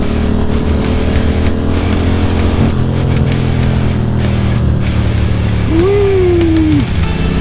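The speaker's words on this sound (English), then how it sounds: "Oh, look at all the gravel." A car rolling over a gravel stretch of Santa Rosa Road near Temecula, a loud, steady engine and road roar with a continuous gritty rumble and a brief rising whine near the end.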